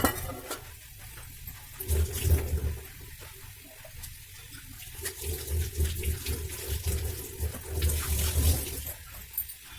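Water in a pan coming to a boil on a stove for barfi, a steady bubbling and rushing wash that swells and fades in waves, fairly close, with a low rumble beneath and no talk.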